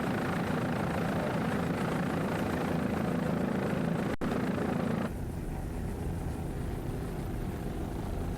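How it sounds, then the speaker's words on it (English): Engines of an offshore racing powerboat roar steadily and loudly throughout, a thick continuous drone that drops slightly in intensity after about five seconds, with no voices. "Nice throttling there by Tom Caruso."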